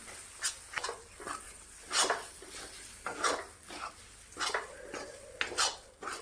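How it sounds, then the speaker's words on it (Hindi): Lotus seeds roasted in ghee in a pan over a medium gas flame, stirred constantly, giving repeated light scraping and clinking strokes of a utensil against the metal, close and fairly quiet, with no talking. "और डाल करके हम कमलगट्टे को भूनेंगे। गैस का फ्लेम हम मीडियम में रखेंगे और लगातार चलाते हुए भूनेंगे।"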